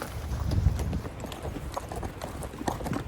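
Hooves clip-clop in an unhurried walking rhythm, several horses moving together at a moderate distance in high country, with light wind in the background.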